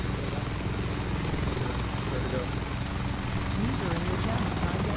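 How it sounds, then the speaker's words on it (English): A heavily loaded helicopter in flight in a military video game, with a loud, steady rotor and engine drone running throughout under close voices talking over it. "This is a very full helicopter."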